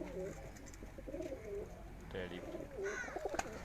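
Pigeons cooing at a pigeon-flying competition, soft repeated throaty coos under a faint background of people's voices.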